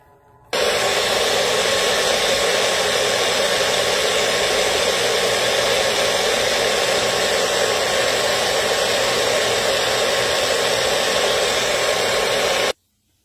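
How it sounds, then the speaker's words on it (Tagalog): Blender whirring steadily while it mixes a smoothie made with almond cashew milk, loud and close, starting abruptly and running for about twelve seconds before cutting off, with no talking. "I-blend ko na."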